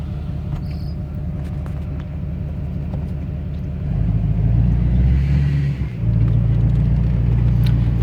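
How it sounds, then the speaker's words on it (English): A 2007 Duramax LBZ diesel pickup with a 4-inch straight exhaust and no muffler drives along, a low steady rumble that swells louder about halfway through as it accelerates, with turbo whoosh over the engine drone. "I put this 4-inch system on, there's no muffler or anything. And the exhaust note itself is a lot quieter. The turbo is definitely louder"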